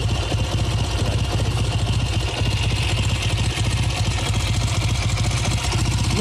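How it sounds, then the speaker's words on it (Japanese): A Kawasaki W1SA motorcycle engine, freshly repaired after an abnormal knocking noise, idles slightly high at around 1000-plus rpm, giving a steady, close, loud rhythmic thumping with light mechanical clatter throughout. "アイドリングはちょっと高めですかね。 ちょっと1000回転プラスあるかぐらい。"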